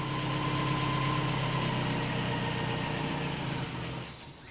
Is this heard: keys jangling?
no